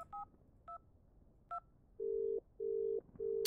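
Telephone dialing in The Inn-Sanity horror game: three short two-tone keypad beeps, then three long, steady, evenly spaced ringback tones, clean and moderately quiet, with no voices.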